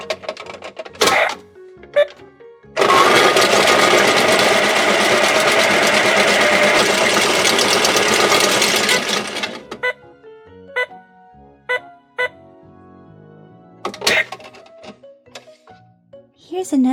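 A toy washing machine whirs steadily for about seven seconds as it spins. It is loud and continuous. Short clicks and sparse voice bursts come before and after it.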